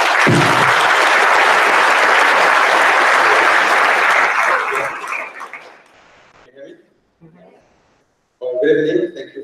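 Audience applause welcoming Dr. Gianetti to the stage for an evening talk on fighting climate change at the molecular level; loud, dense clapping for about six seconds, then fading out before a voice begins speaking.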